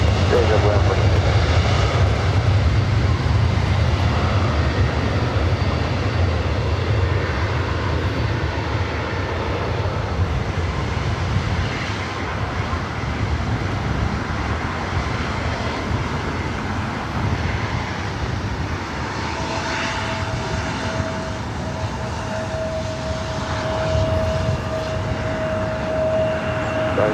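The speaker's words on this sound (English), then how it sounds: "This is Delta Airlines Flight 464 heading to Kahului in A321 Neo." A Delta Airbus A321neo jet airliner at LAX gives a loud, sustained engine roar that dominates throughout, with a thin steady whine rising late in the stretch and some talk mixed in.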